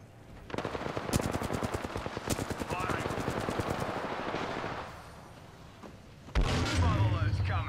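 Rapid automatic gunfire in a battle royale video game, a long close burst of evenly spaced shots followed by a quieter lull and a final loud blast.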